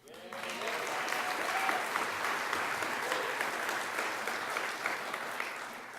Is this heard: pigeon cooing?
no